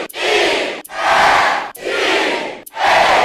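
Stadium crowd in College Hoops 2K8 chanting letters in loud, sustained bursts, four chants in a row separated by brief gaps, with no other voices over them.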